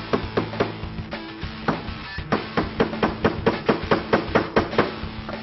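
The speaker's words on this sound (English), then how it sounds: "Now we're going to use the phone itself as a hammer." A Nokia Lumia 900 phone used as a hammer drives nails into plywood, giving a steady run of sharp, close knocks, at first irregular, then evenly spaced and growing louder.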